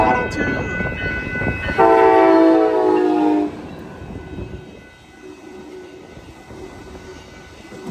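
An Amtrak San Joaquin passenger train led by a Siemens Charger passes close by at Bayfront Park in Pinole, California, loud engine and wheel rumble with a sustained multi-tone horn blast midway, then fading.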